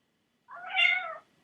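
A single clear cat meow, drawn out for under a second, close and alone in an otherwise quiet space.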